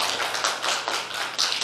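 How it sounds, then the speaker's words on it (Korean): A church congregation at a Korean Presbyterian Sunday service applauds, with dense, crackling clapping that swells and dips in a few quick waves. "우리 박수로 한번 환영할까요?"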